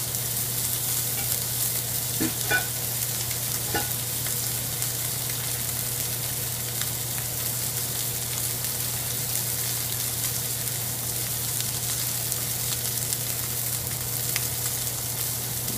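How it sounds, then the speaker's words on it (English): Ribeye steak searing in butter in a pan, a steady close hiss and crackle of frying with occasional sharper pops, alone and continuous throughout. "putting the butter on first, is it's going to sear the meat on one side"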